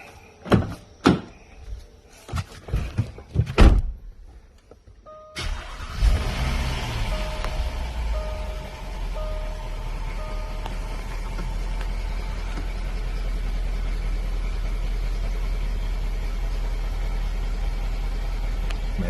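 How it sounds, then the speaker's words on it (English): A Jaguar Land Rover car engine cranks and catches after a few clicks and thunks, then settles into a steady, close idle that runs to the end. "now I'm gonna start the car again"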